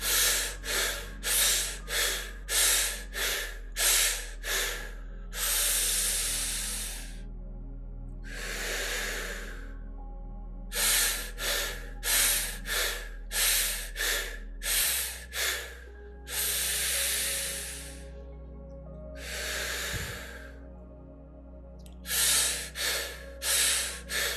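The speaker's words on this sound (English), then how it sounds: "Let's take a long deep breath." Breathing exercise of loud, close breaths: rapid bursts of short sharp inhales and exhales alternate with long, slow, deep rushing breaths, repeating in sets with no talking.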